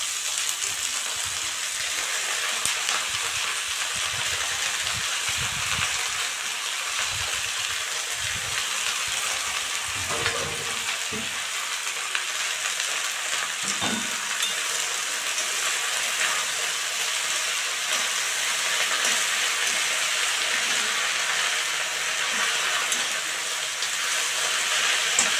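Freshly washed red amaranth leaves cook in a pan with fried onion and garlic, making a long, even hiss of sizzling moisture with a few soft knocks early on.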